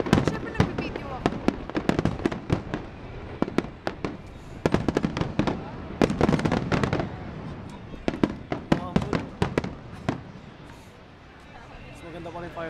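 Fireworks burst in rapid irregular volleys of sharp cracks and booms, loud and close, with crowd chatter running underneath throughout.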